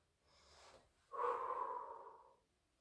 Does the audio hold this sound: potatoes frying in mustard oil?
no